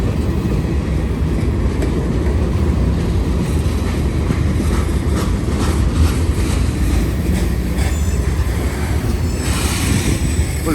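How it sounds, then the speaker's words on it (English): A CSX freight train hauling huge refrigerated box cars rolls past near a three-track crossing by a depot, a loud continuous rumble with rail clatter and faint wheel squeal, no voices. "Gigantic refrigerated box cars."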